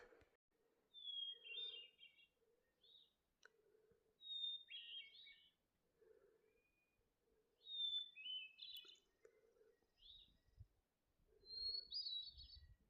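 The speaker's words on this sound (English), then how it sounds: "That's a hermit thrush, one of my favorite birds that I hear out in the woods a lot." A hermit thrush sings clear, fluting phrases repeating every few seconds in the woods on Mount Adams, each a pure opening note sliding into a rapid trill, set against a faint low hum and occasional rustling.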